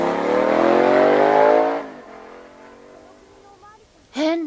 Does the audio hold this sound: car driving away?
yes